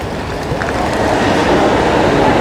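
A train rumbles at Venice Santa Lucia station, a steady, fairly loud rolling roar with faint metallic clatter, building slightly over its short length with no talk.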